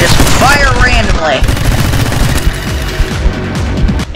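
Rapid gunfire in the My Friend Pedro game, loud dense bursts of shots running throughout, with a voice briefly heard near the start.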